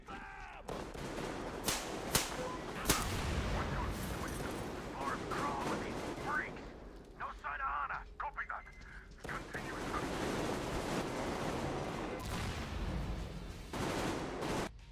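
Video game gunfire in rapid bursts and fusillades, loud and dense, with brief lulls, mixed with a person talking over it.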